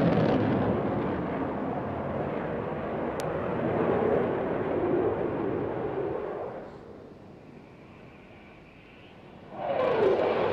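An RAF Eurofighter Typhoon jet flying a tight minimum radius turn at the Eastbourne air display, a loud broad engine roar that fades to a distant rumble before surging back near the end.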